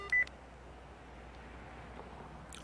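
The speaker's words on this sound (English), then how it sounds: "The phone call cuts off abruptly." A phone call in a video game cuts off abruptly, with a short electronic beep at the start and another faint blip near the end over a quiet, low background hum.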